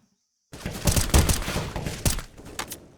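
Rifle fire in a Counter-Strike esports match that opens after half a second of silence, then a dense run of rapid overlapping shots with sharp impacts before it trails off.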